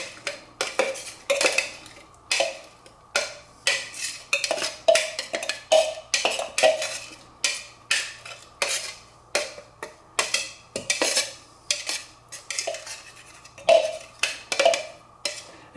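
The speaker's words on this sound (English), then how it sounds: "I did scrape the side like this to make sure that it was all hitting the blade when I was processing" Repeated scraping of a spatula against the side of a food processor bowl holding chopped herbs for an Italian salad dressing, about twenty quick rhythmic strokes with clinking bursts, close and fairly loud with no talking.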